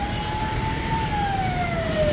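An ambulance siren wailing in busy Hanoi city traffic full of motorcycles, a single long gliding tone over a steady rumble of engines.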